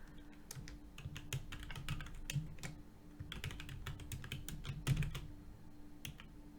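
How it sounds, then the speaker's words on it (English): Keys clatter on a computer keyboard as a name is typed into a form, in quick irregular bursts with brief pauses, close and fairly quiet, with no talking. "let me just type my name in here"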